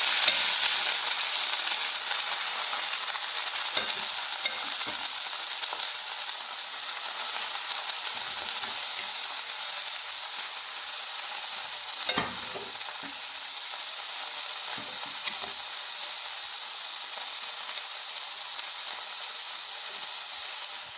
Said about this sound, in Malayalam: ഇനി മുരിങ്ങയില ഇട്ട് കൊടുക്കാം.